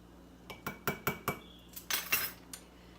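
A metal teaspoon clinks repeatedly against a container while an ingredient is measured for homemade sugar-free ice cream, giving about eight quiet, close, irregular taps.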